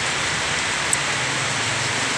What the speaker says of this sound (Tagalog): Grabe ka ulan.